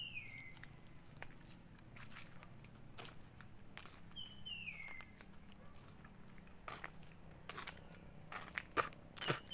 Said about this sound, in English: We chew it this leaf